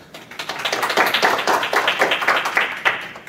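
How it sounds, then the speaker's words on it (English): Audience applause at a climate justice session, a quick run of distinct hand claps from a modest crowd, fairly close and lively for a few seconds, heard on its own without talk. "Now that deserves a round of applause."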